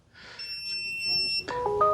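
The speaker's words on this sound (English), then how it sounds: "I got alarms going off. I got beeps going" A cooking alarm beeping as beef ribs finish on a smoker: electronic tones sounding together, one shrill tone followed by a cluster of other beeps, close and fairly loud.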